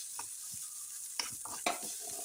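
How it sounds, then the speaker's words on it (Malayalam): Chopped onion frying in a pan and being stirred, a faint steady sizzle with a few soft scraping clicks of the spoon against the pan, no voices. "നമുക്ക് സവാള ചെറുതായി അരിഞ്ഞ് വെച്ചത് ഇട്ട് കൊടുക്കാം. അതൊന്ന് നന്നായിട്ട് ഇളക്കിയെടുക്കണം."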